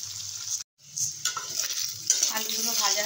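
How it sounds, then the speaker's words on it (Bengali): Cut potatoes frying in leftover fish-frying oil, a steady close sizzle with brief stirring and utensil clinks, dropping out for a moment near the start before resuming. "আলুগুলো একটু ভেজে নেব।"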